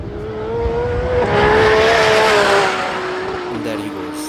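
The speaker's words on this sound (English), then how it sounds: "Now we have the Nissan GTR." A Nissan GTR launches hard down a drag strip at a drag meet, its engine a loud sustained roar that climbs in pitch through the run. Crowd noise and some voices sit faintly underneath.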